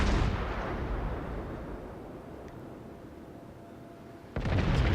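Heavy gun salvo from the Tirpitz battleship in World of Warships: a loud boom at the start fades into a long rumbling decay, then a second sharp blast lands near the end.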